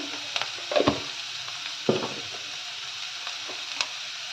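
Mixed vegetables stir-frying in oil with salt and turmeric for egg fried rice: a continuous bright sizzle with a few louder scraping stirs of a spoon against the pan, close up.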